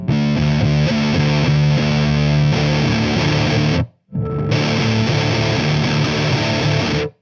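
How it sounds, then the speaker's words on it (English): Electric guitar run through a Balaguer Fission Drive v2 distortion pedal in vintage mode with extra high end, loud saturated chords ringing steadily, cut by a brief silent gap before resuming. "This pedal in this mode to me sounds kind of unique."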